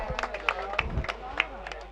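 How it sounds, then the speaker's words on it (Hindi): Applause at a farmers' welcome ceremony: a scattered crowd clapping with sharp separate claps, fairly close, mixed with background chatter and murmuring voices. "जोरदार ताली के साथ स्वागत बाबा का जोरदार ताली के साथ स्वागत"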